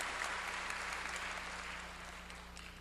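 Steady, dense applause from a church congregation during a Korean sermon, fairly soft and even, fading slightly toward the end.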